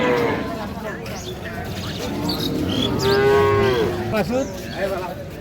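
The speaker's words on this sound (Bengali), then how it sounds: "গাভী বাছুর আমরা দেখছিলাম" Loud, drawn-out moos from a dairy cow and calf close by, one long low call rising and falling, with a busy background of voices around at a cattle market in Ambari, Dinajpur.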